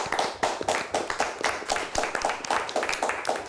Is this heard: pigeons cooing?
no